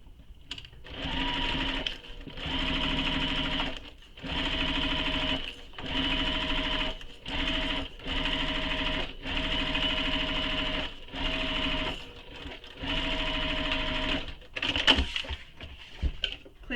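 A sewing machine stitches a seam joining a fabric piece to a pocket panel, running in steady bursts of rapid mechanical whirring separated by short pauses, close and clear with no talk.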